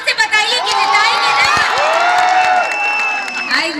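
Crowd at a stage event cheering and shouting loudly, a dense sustained roar of many voices with whoops throughout, continuous and close.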